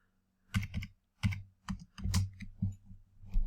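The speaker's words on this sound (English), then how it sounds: "typing too fast." Fast typing on a computer keyboard, close and moderately loud, with several short bursts of clattering keystrokes separated by brief pauses.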